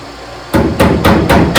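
Body hammer strikes a car panel backed by a dolly just beside the welds, five loud, evenly spaced metallic blows after a brief quiet start, close by with no talk.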